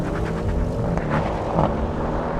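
An Audi RS6 and a BMW M5 accelerate hard side by side in a drag race, a dense, steady engine roar that stays loud and close throughout.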